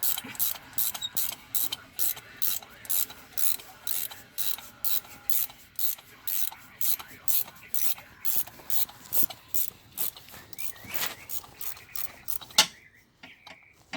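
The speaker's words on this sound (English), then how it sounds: "ratchet wrenches" A ratchet wrench works on a 2007 Honda Accord V6 engine during timing belt and water pump replacement, giving a rapid, regular clicking in about two dozen short bursts, close and clear, before it stops.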